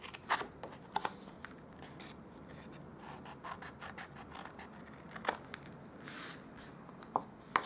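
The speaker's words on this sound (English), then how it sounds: "We're going to cut up the score line here" Blade cutting card along a score line, close and quiet, with scratchy rasping strokes and small sharp clicks at irregular intervals.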